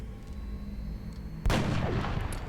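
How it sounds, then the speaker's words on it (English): A soldier fires at a Muton in the video game XCOM: Enemy Within, a single loud, booming weapon blast that cuts through steady background hum and decays into a rumbling tail. "Ryu moves up into half cover, where he takes a headshot goes for a headshot on the Muton"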